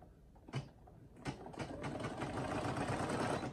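A Brother SE1900 embroidery machine stitches a monogram onto a coat, starting with a couple of clunks, then settling into a steady, close mechanical whirring and rapid needle chatter.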